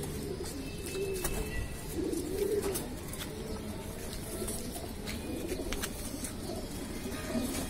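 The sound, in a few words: racing pigeons cooing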